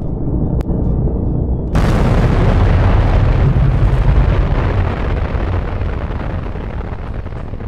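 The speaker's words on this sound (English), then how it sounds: "I found several clips and layered them together to create this nice sound effect" Layered nuclear explosion sound effect for a game scene: a sharp crack, then a massive sustained roaring rumble that swells and slowly rolls on without fading, loud and dense with no voices.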